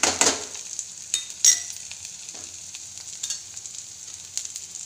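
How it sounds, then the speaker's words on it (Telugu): Onions frying in oil in a pan for a ridge gourd curry, a soft continuous sizzle broken by a few brief scraping stirs, close and fairly quiet, with no voices. "ఎర్రగడ్డలు పచ్చివాసన పోయేంత వరకు వేయించుకుంటే చాలు."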